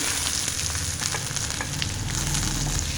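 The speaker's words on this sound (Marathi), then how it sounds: "आता याच्यामध्ये मी भिजवलेली मच्छीची डाळ टाकून घेते" Soaked lentils hit hot oil with frying garlic, onion and chili, giving a loud, dense, even sizzle with faint crackles throughout the short stretch.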